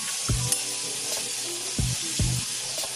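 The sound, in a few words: stirring methi bhaji frying on a griddle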